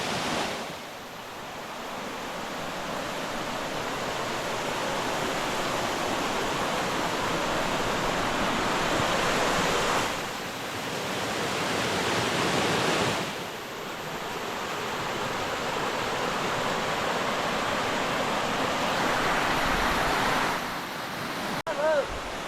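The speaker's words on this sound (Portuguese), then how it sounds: "chegar na cachoeira." Continuous roaring rush of falling water, broad and steady, swelling and dipping slightly in loudness over time with no talk.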